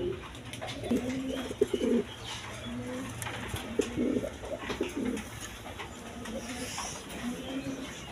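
Pigeons of various breeds kept for sale coo repeatedly nearby, low throaty calls rising and falling in bursts over a faint background hum.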